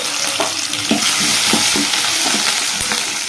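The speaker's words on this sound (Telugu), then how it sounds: "దీన్ని అయితే మంచిగా ఫ్రై చేసేసుకుందాం" Chopped onion and green chillies fry in oil for a potato kurma, giving a loud, steady sizzle broken by repeated scraping stirs of a spoon against the pan, with no voices.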